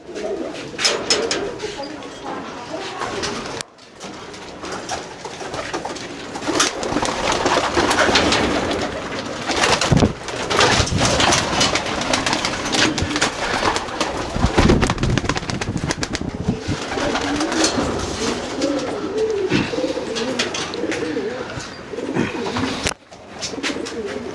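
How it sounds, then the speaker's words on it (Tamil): A homing pigeon coos while held in the hand, with low murmuring calls under steady rustling and handling noise, and a few sharp pops over about twenty seconds. "இப்போ நான் ஒரு புறாவை பிடிச்சி காட்டுறேன்"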